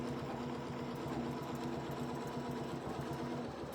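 A sewing machine stitches a quilt block for the Tile Titans quilt, running steadily around a circular appliqué shape with a close, continuous mechanical whir and rapid rhythmic needle pulses throughout.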